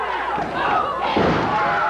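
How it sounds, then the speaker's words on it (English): A wrestler is body slammed onto the wrestling ring mat during a CWA tag match, a broad thud at mid-clip inside continuous loud crowd noise with commentary talk running throughout. "Jeff picked him up. Body slams Eric"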